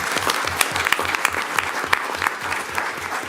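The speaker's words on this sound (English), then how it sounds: "Let's give the teachers from Bear Creek Middle School a round of applause." Audience at a school board meeting gives a round of applause for middle school teachers, steady close clapping from a modest crowd throughout with no talk over it.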